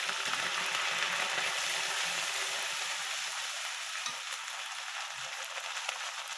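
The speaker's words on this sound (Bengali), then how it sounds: "পেঁয়াজটা ভাজা ভাজা হয়ে গেছে। এবার যে আদা রসুন বেটে রেখেছিলাম সেই আদা রসুন বাটাটা দিয়ে দিলাম।" Onion, ginger and garlic paste fries in a pan while making a fish curry with potatoes, a dense steady sizzle and crackle close up that eases slightly in loudness toward the end, with no talking.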